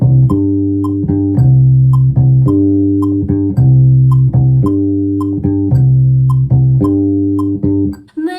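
Bass guitar playing a bossa nova groove built on root and fifth tones, a steady repeating low pattern of plucked notes, loud and alone, fading at the end.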